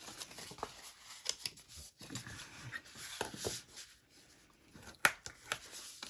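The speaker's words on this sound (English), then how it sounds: "So all you're going to do is just fold them up." Pre-scored paper pieces for an accordion-style mini album being folded into a gatefold shape, giving soft, faint crinkles and light creasing snaps close by, with no voices.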